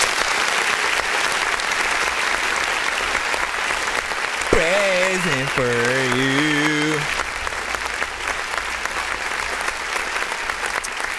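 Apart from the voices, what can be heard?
clapping hands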